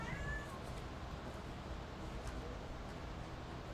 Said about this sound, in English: Is that the mom cat?